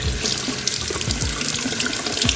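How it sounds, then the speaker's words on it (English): Hot water runs steadily from a tap after a water heater flush, a continuous close splashing rush into a sink with no voices. "I've got hot water running now."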